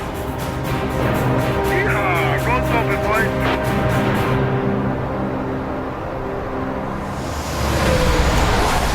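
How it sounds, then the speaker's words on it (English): Dense road traffic on the 402 highway near Sarnia, a steady broadband rumble of passing cars and heavier vehicles, continuous and fairly loud throughout, with a tonal engine drone early on. "There's a lot of traffic here."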